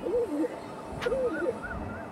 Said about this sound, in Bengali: দেখে নিন কোয়ালিটি দেখুন পায়রা।